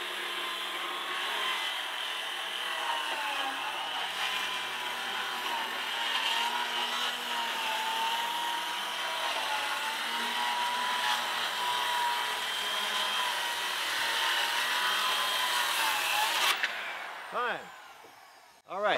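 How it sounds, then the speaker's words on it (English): A Skil Mag77 worm drive circular saw cuts through wood, its motor whining steadily under heavy load for about sixteen seconds before the cut ends and the blade winds down. "I was pushing the saw, not to a stall, but until the motor was definitely, you know, winded down."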